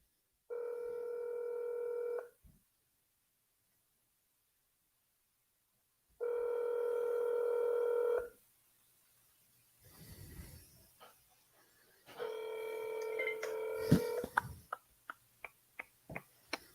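Two long, loud ringback tones on an outgoing cold call to a home seller, separated by silence, then faint rustling and a third ring overlapped by a burst of sharp clicks.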